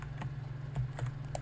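Typing on a computer keyboard while writing notes: a quiet, steady patter of light key clicks at close range, with no talking.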